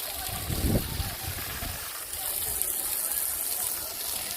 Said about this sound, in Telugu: బెండ మొక్కలకు కూడా వాటర్ ఇస్తున్నా.